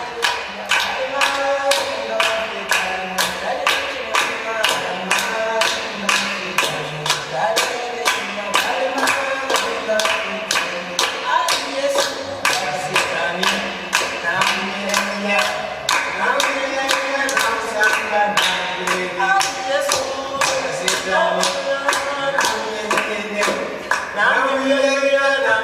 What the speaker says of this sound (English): so watch her clap, she's fine.